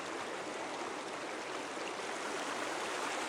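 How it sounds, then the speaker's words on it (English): The Rocky River in Tasmania flowing past, a steady broadband rush of moving water that stays even and continuous throughout. "Here we are at the Rocky River."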